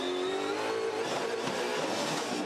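Onboard engine roar from Scott McLaughlin's Supercars race car at the Adelaide street circuit, a loud, continuous high-revving drone with shifting pitch throughout, no voices.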